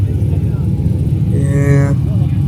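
Loud Pontiac car engine idling at a car show, a steady low rumble with a brief rising rev toward the end, heard up close.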